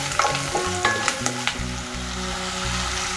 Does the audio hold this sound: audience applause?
no